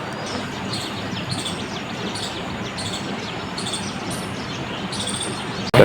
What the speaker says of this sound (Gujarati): પક્ષીઓનો અવાજ સાંભળો તમે.